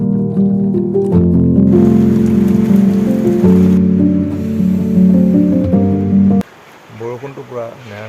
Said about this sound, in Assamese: বৰষুণটো পূৰা নেৰানেপেৰাকৈ দি আছে